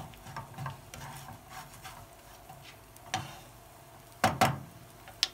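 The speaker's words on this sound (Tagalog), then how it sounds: "Pag-mix na natin yung dalawa." A spatula stirs noodle ingredients in a pan for stir-fried ramen, giving soft scraping and light sizzling with a few sharper clinks near the end.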